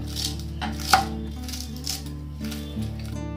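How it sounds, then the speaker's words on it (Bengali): A knife chops fresh coriander leaves on a board in a home kitchen: a few separate, crisp knife strikes about half a second to a second apart, with soft music playing underneath. "এবার ধনেপাতাকে টুকরো টুকরো করে আমি কেটে নেব।"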